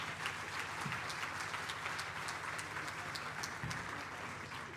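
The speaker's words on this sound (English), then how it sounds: "Please give them a round of applause" A crowd at a national senior certificate award ceremony applauds a telecoms sponsor, a steady, fairly distant wash of clapping that holds evenly throughout with a couple of low thumps underneath.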